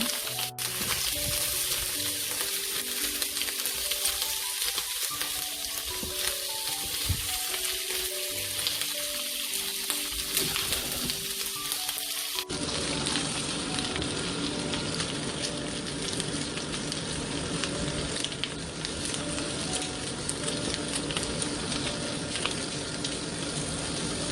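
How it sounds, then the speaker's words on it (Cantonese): Pork belly pan-frying in a wok gives a continuous close sizzle and crackle, fairly loud, with the sputtering growing denser and harsher partway through. "先煎一煎個五花腩"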